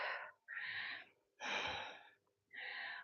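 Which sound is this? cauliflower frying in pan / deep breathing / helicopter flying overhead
deep breathing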